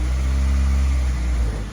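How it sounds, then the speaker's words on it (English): A Honda Civic engine idles roughly, a loud, close, low steady rumble with a slight unevenness, fading a little at the end. "It wasn't idling like this last night."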